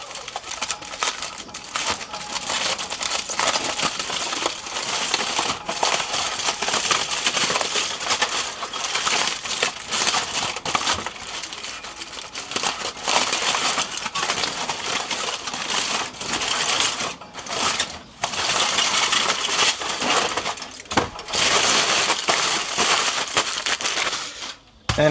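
Cooked Duroc pork shoulder from a kamado grill being pulled apart, heard close up as a dense run of wet tearing, squelching and crackling that goes on and on, with brief pauses.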